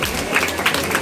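Audience clapping at a school annual day celebration, honouring a young performer named Angel; a brief burst of dense, continuous applause.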